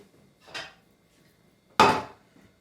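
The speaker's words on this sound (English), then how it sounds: "I'm going to take a pan." A metal cooking pan is lifted and set back down twice, each a short clattering knock, the second louder and closer, with quiet gaps between, while aubergine is prepared for eggplant burgers.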